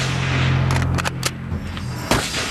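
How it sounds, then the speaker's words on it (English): Gunshots crack and echo across Dealey Plaza in Dallas in 1963, several sharp reports in quick succession over a low rumble, each followed by a reverberant tail. "When the gunshots echoed in the plaza"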